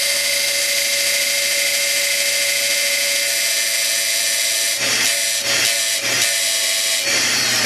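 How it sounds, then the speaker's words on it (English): A Fortuna leather skiving machine runs with a steady high whine and hum while a sharpening stone is brought against its bevel knife, giving a few short grinding bursts near the end. "now we're going to do sharpening of the stone against the bevel knife. And we're going to turn the machine on"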